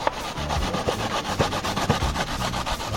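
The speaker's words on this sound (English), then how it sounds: "I get the coconut grate out. See coconut." Coconut being grated on a coconut grater outdoors by a river for coconut milk, a loud steady scraping rasp in quick repeated strokes, close and without talk.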